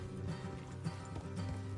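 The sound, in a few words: horses trotting in the video game Red Dead Redemption 2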